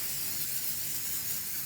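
Oil spray from a can misted into ramekins being prepared for chocolate cakes: a continuous, even, breathy hiss held close and steady throughout, with no talking.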